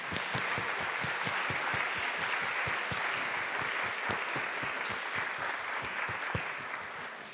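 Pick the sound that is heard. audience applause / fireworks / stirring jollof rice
audience applause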